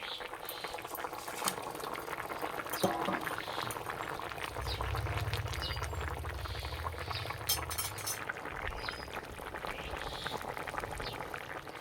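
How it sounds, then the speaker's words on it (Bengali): A pot of tilapia fish curry with potatoes simmers in a home kitchen, giving a continuous low bubbling with occasional clinks of utensils nearby. "মাছ দেওয়ার পর কিছুক্ষণ ফুটিয়ে নিয়েছি"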